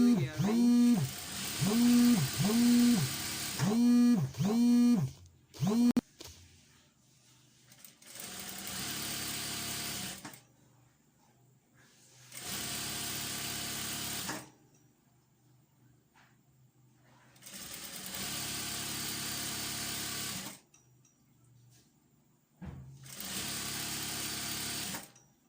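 A sewing machine stitches a fluffy tutu skirt in repeated loud whirring runs several seconds long, separated by quiet pauses, with a rapid stop-start pulsing stretch at the beginning.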